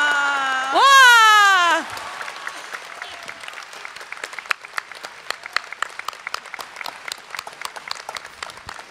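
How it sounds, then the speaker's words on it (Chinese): Audience applause at a charity sale event in a Seattle convention centre rises after a loud, drawn-out vocal cheer, growing into dense, steady clapping from a large crowd that continues to the end. "谢谢大家的掌声"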